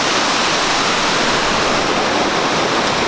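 Steady, dense roar of falling water at one of the seven waterfalls in Kawazu, Japan, loud and close with no other sounds over it.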